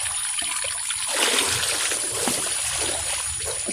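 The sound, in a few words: splashing water while bathing in well water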